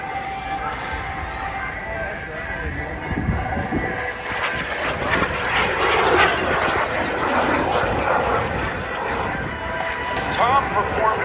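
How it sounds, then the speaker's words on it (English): A small experimental propeller aircraft, 16 feet long with an 18-foot wingspan, performs a slow roll along the shoreline at the MCAS Cherry Point air show, its engine droning steadily and swelling slightly under continuous commentary and crowd noise. "16 feet long, has a wingspan of 18 feet, and watch Tom show you a very slow roll across the shoreline"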